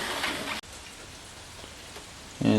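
Running water rinsing fur off pieces of rabbit meat, a steady splashing hiss that briefly cuts out and resumes, with a louder gush near the end.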